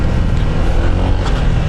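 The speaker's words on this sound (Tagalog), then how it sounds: "Sa tunog naman ng makina," Honda ADV 160 scooter engine fitted with an upgraded CVT, running with a loud, steady low-pitched drone that stays even throughout the short stretch with no talk over it.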